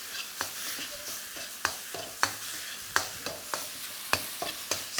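Pork mince pressed and stirred with doubanjiang chili bean sauce in a hot pan for an ants-climbing-a-tree noodle stir fry: steady close sizzle with sharp spatula scrapes and knocks every half second or so, no talk.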